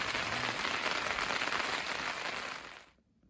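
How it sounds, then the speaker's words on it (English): Heavy rain falls during a family deer hunt outdoors, a loud, dense hiss of drops pattering on surfaces close by, steady for nearly three seconds before cutting off abruptly. "It's raining hard."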